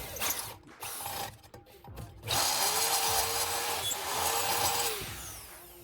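A power drill bores into a car part during an Opel repair, the motor whining steadily at close range after a few short starts and stops, with a faint rattling mechanism beneath.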